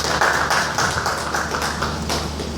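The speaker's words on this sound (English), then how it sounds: "Please give him a round of applause." An audience at a Lagos workshop on private-sector innovation applauds a speaker, giving steady, dense clapping throughout with no voices over it.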